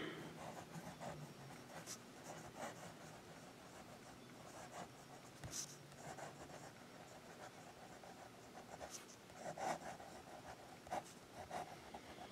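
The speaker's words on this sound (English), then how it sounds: "And this is Bird with a medium nib. And we'll do the writing next." Fountain pen with a medium nib scratching across paper, soft intermittent strokes close up and faint against a low background hum, with no talking.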